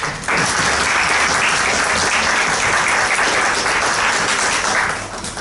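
Audience applause at a seminar on women's political participation, steady sustained clapping from a crowd filling the room for about five seconds, then tapering off at the end.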